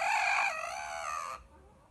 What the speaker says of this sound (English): he did a full cock-a-doodle-doo